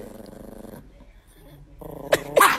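An angry dog growls in low rumbling bursts near the start, goes quiet, then gives louder snarling growls and a sharp yip near the end, close by, with people talking over it.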